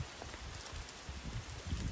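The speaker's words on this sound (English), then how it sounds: "We're gonna get back to walking in the rain." Rain falls steadily while hiking on the Appalachian Trail, a soft, constant hiss with faint patter and low rumbling handling noise close by.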